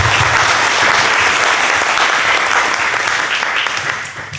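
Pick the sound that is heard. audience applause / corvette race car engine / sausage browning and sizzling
audience applause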